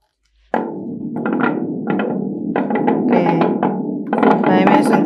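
A musical instrument imitates thunder with a sudden loud onset followed by rumbling, knocking bursts that build and keep rolling, close and sustained for several seconds.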